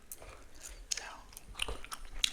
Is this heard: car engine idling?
no